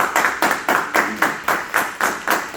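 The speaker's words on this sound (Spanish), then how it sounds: "Dale un aplauso al Señor." A church congregation claims in applause for the Lord, a steady run of about nine evenly spaced bursts of hand claps, moderately loud and close, with no voices over it.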